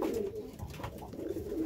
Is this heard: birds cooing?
yes